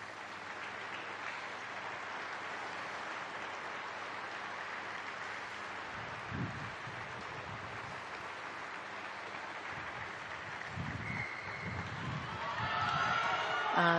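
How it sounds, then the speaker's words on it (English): Crowd applause from spectators on the far side of the field at a Women's Super League rugby league match between York City Knights and Leeds Rhinos, distant and faint, with brief commentary voices. "And that met by applause from the healthy-looking crowd on the far side of the field."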